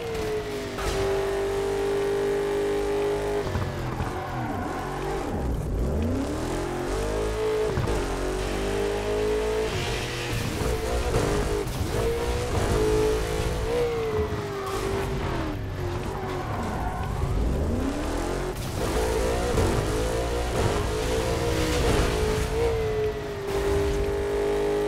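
Car engine revving and tyres skidding in Burnout Paradise Remastered as the e-brake throws the car into spins, a loud continuous roar swooping up and down in pitch with repeated screeches.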